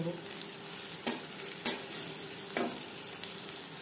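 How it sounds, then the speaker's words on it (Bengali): Fish and potato pieces coated in ground masoor lentil powder sizzle steadily in hot oil, with a few sharper crackles and spits standing out from the constant fry. "এবার দিয়ে দেব মুসুরির ডালের গুঁড়ো, এতেও বেশ ভালো করে কোট করে নেব। ক্রিস্পি করে আলু ভেজে নেব।"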